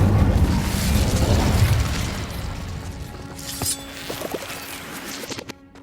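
An Incendio fire spell blasting in the Hogwarts Legacy video game: a loud, roaring burst of flame that fades over a few seconds into lighter crackles and small magical chimes.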